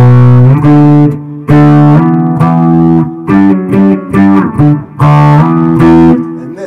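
A loud, crunchy distorted electric guitar plays a chugging intro riff of chords in short bursts with brief gaps between phrases.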